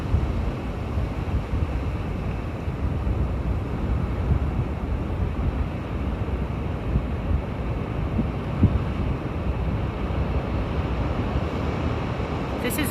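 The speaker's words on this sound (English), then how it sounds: "There's an up close of the waves." Calm ocean waves wash continuously up close, forming a steady, even roar with wind buffeting the microphone and no distinct breaks.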